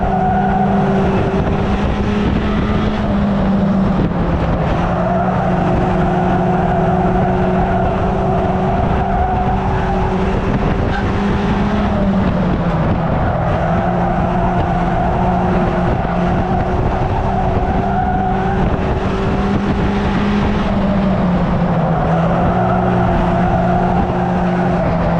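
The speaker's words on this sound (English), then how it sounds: "And once again it's some close racing with the pack ahead going for the lead." Race cars at Cowdenbeath Racewall roar continuously in a close pack, engines droning and shifting pitch as they circle near the microphone, with no talk over the steady loud racket.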